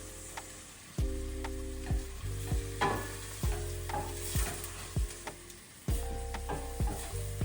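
Crayfish and habanero peppers fry quietly in a pan, with a soft sizzle beneath repeated scraping stirs that fall roughly once a second, each scrape followed by short clinks and hums.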